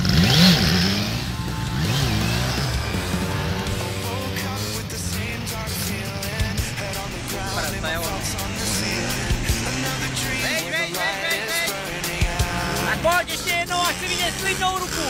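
A motorcycle engine revs and surges during a rear-wheel wheelie at a wheelie riding course, the throttle rising and falling in waves while people shout over it.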